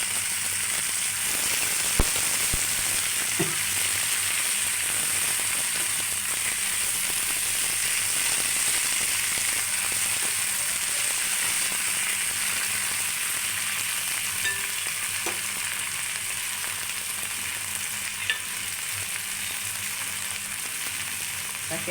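Washed drumstick leaves frying in a pan, a steady dense sizzle running unbroken throughout with a few faint clicks and pops, no talking.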